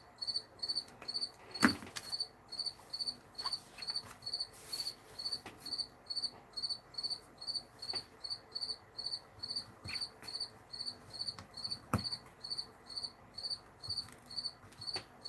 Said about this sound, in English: He's a happy little cricket.